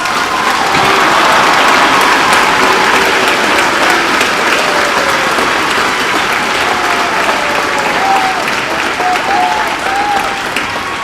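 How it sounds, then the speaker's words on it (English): At the Camas High School 2021 graduation, an audience applauds students who earned AA degrees, with loud, sustained clapping from a large crowd and faint voices and cheers under it. "Let's give these hardworking students a round of applause."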